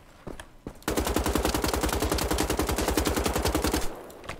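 A machine gun in the shooter Wolfenstein: The Old Blood rattles off a long, rapid, unbroken burst of loud shots lasting about three seconds, preceded by a few scattered quieter sounds.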